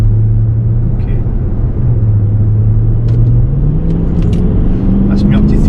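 Engine of a Range Rover L405 revving to about 3,500 RPM while driving, a loud steady low rumble that slowly climbs in pitch, heard from inside the car with someone talking over it.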